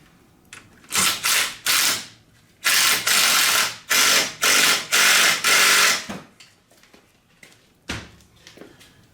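A ratchet wrench tightens a new bolt with washers on the brake hose of a Mitsubishi Outlander during front brake caliper replacement. It gives loud, close bursts of rapid clicking in repeated strokes, then a few sparser clicks.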